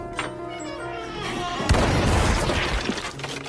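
A rifle shot in a film scene: a sudden loud boom breaks over a tonal background, followed by a rumbling, crackling tail that fades over about two seconds.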